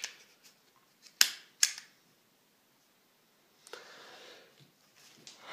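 Decocker lever worked on a Retay Baron HK 9 mm P.A.K. starter pistol, a Turkish replica of the SIG Sauer P228, giving two sharp close metallic clicks followed by softer handling rustles.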